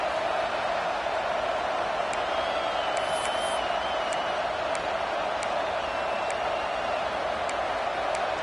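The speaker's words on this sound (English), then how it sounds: "listen to this crowd noise. This stadium is vibrating." Dense, steady roar of a football stadium crowd, loud and unbroken throughout, with faint whistles or shouts rising briefly above the din.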